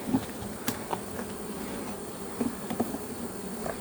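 A soft, steady buzz of honey bees around a hive hangs in the background, with a few brief louder hums and ticks as bees pass close by.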